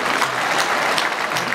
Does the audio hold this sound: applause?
yes